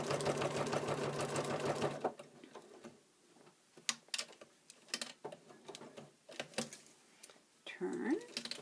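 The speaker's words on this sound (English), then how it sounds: "Stitch to that corner very slowly." A sewing machine stitches trim in the ditch, a rapid mechanical whir for about two seconds, then quieter clicks, taps and handling noises with a brief burst of stitching near the end.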